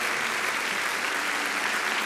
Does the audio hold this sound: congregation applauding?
yes